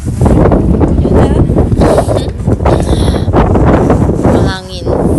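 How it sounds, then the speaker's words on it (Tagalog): Wind gusting at a marina in Istanbul, loud buffeting rumbles against the microphone with people talking throughout. "Mahangin na malamig."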